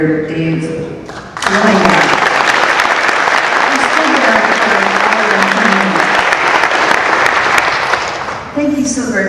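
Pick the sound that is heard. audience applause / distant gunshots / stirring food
audience applause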